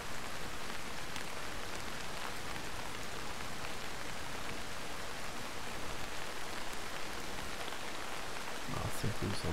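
Steady rain pours in the Arma 3 video game on the Virolahti map, a dense, continuous hiss filling the whole stretch, with faint voices talking quietly beneath it.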